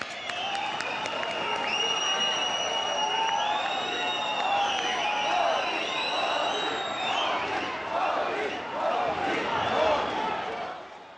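A large crowd at a prime ministerial event in the NESCO exhibition centre in Mumbai claps and cheers steadily for about eleven seconds. The applause stays dense and fairly distant, with a whistle-like tone running through it.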